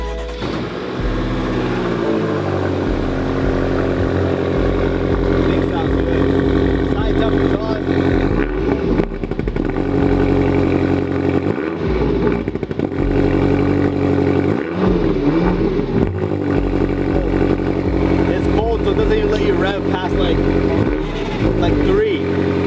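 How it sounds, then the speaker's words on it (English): 2018 BMW M6 engine idling loud and close, its deep exhaust rumble swelling with a few revs that rise and fall across the stretch, with people talking over it at moments. "Show you guys some exhaust sounds too."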